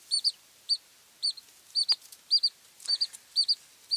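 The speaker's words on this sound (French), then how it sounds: "Les poulets de Bresse, c'est ça." Bresse chickens give a quick series of short, high-pitched clucks and peeps, often in pairs, fairly faint against a quiet background.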